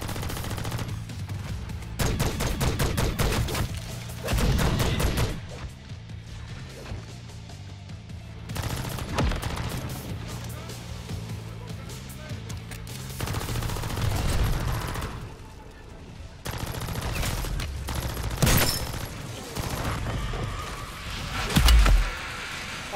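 Bursts of rapid automatic gunfire in the video game Operation Deadbolt, loud clattering volleys separated by brief lulls, with occasional heavier booms.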